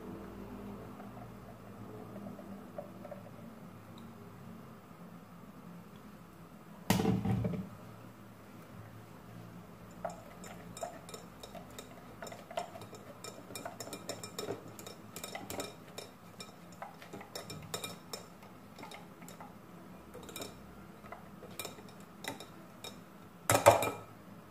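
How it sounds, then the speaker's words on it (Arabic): Homemade coconut milk being strained through a metal strainer into a bowl, mostly quiet with scattered light clinks and taps of utensil on strainer and dish, and two sharper clatters standing out. "فاحنا جبنا صفاي وجبنا صحن ولزمنا نصفيو إلا الحليب هذايا حتى نحي منه كل الكتلات اللي تقعد من جوز الهند"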